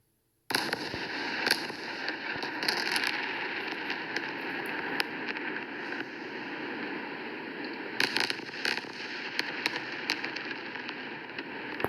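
Bombardment explosions on played news footage arrive as a constant crackling, hissy barrage with scattered sharper bangs, distant and somewhat muffled, running steadily throughout.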